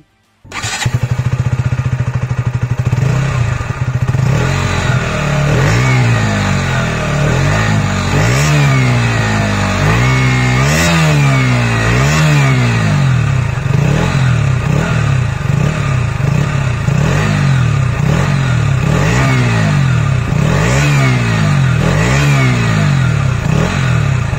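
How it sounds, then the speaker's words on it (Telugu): A 2021 KTM Duke 125 motorcycle starts, and its exhaust note settles into a loud, close idle. Repeated rising and falling revs follow one after another with no talking. "వీడియోని కంక్లూడ్ చేసే ముందు ఒక్కసారి ఈ బైక్ ఎగ్జాస్ట్ నోట్ ఎలా ఉందో వినండి."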